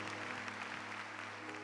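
An audience at a Catholic homily breaks into steady, fairly distant applause, a continuous patter of many hands with no gaps.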